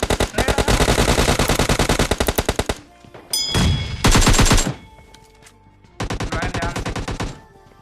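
Rapid bursts of automatic gunfire, loud and close, with short pauses and a few single shots between volleys, game-like in character.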